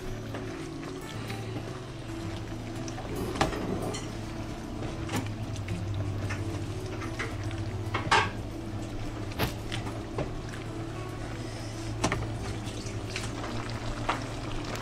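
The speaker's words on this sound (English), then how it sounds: "Mix this up." Stuffed pepper sauce bubbling in a pan, a continuous sizzle and simmer with occasional utensil scrapes and taps of stirring over a low steady hum.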